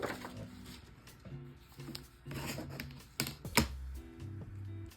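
A magazine page is cut in a quiet room, with a series of short, close snipping and rustling clicks in an uneven rhythm and one sharper crisp snap partway through.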